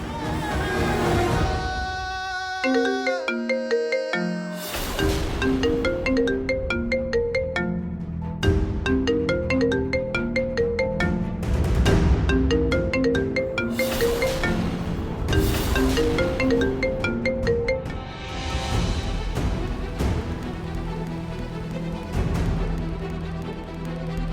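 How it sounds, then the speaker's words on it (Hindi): A melodic phone ringtone plays repeatedly, a bright looping tune of short notes cycling over and over, fairly loud and steady. "कैसे उठाऊं तुम्हारी बहन का फोन?"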